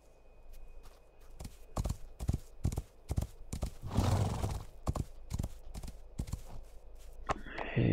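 Horse hooves clip-clopping in an irregular walking rhythm in the video game Rising World, close and crisp, with a breathy whinny midway and another neigh at the end.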